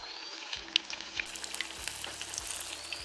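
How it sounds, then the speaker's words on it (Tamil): Food deep frying in hot oil for traditional Aadippirappu dishes, a steady close sizzle crackling with small pops and bubbling throughout, no voices. "இதே மாதிரி நீங்கள் எல்லாத்தையும் பொரிச்சு எடுப்போம்."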